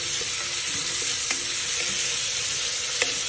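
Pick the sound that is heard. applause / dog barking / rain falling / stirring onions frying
stirring onions frying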